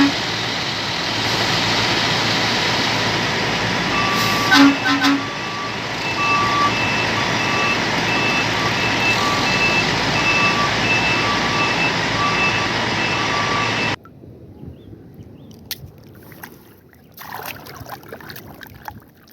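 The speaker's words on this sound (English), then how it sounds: "Wow, this is a mixer truck" A mixer truck backing up gives off a steady run of repeated reversing beeps over a constant engine drone for several seconds before the sound cuts off, leaving only faint background noise.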